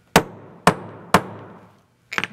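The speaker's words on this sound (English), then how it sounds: "give a couple of strikes with my hammer" A hammer strikes metal leather stamps pressed into leather for a handmade cuff: three sharp, evenly spaced knocks, each with a short ringing decay, then a quick double tap at the end.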